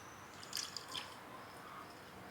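Goat milk is poured into a thick, simmering herbal decoction for kumkumadi oil, giving a few faint, soft liquid splashes and drips against quiet background noise.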